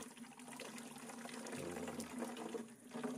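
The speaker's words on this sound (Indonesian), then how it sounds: "Ambil airnya di gini, dimasukin pakai gayung" Water being scooped and poured with a gayung dipper, a steady splashing and trickling of liquid, faint and close, with no talking.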